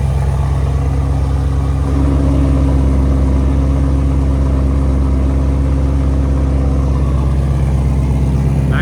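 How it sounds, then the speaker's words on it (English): A 2017 Ford Mustang GT350 with a 5.2L Voodoo V8, headers and straight pipes idles very loudly and close by, giving a steady, deep, rumbling burble that holds even throughout. "17 Ford Mustang GT350. Straight pipe. Sound decibels on idle."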